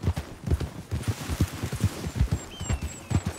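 Horse hooves clip-clopping in Red Dead Redemption 2, a steady, fairly quick rhythmic run of close hoof strikes with faint background tones.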